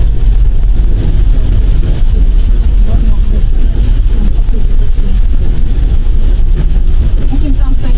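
Steady rain drums on a Toyota Hiace van during a drive, a constant, loud hiss blended with low road and engine rumble throughout.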